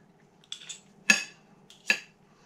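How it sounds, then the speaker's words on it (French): Knife cutting through a cooked duck breast (magret) on a plate, giving two short sharp scrapes of blade on crockery with light clinks between, close and fairly quiet, no talking. "Je vais couper déjà le magret"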